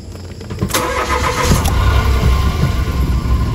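A clutch pressure plate with its cover off gives a crunchy, grinding mechanical rattle over a running car engine, a continuous close rumble with gritty texture throughout.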